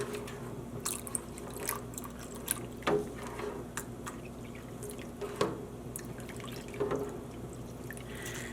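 Dye liquid poured and dripping onto variegated yarn in a dyepot during immersion dyeing: scattered soft drips and splashes over a quiet background hiss, with no talking.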